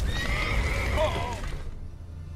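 A horse whinnies loudly over a low rumbling background in The Witcher 3: Wild Hunt, the neigh rising and falling before fading into the hum.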